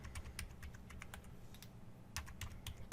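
Keys tapped in irregular bursts on a computer keyboard while a password is entered, close and moderately loud, with a steady low hum underneath and no talking.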